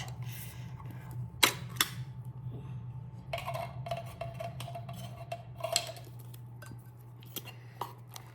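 Soup in a crock pot is mashed and stirred with a utensil: irregular clinks, taps and scrapes against the pot, some sharp and close, over a steady low hum, with no talking.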